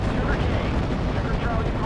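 A fuel explosion and battlefield fire in the WWII strategy game Steel Division: Normandy 44 make a dense, continuous rumble with crackling blasts that stays loud throughout.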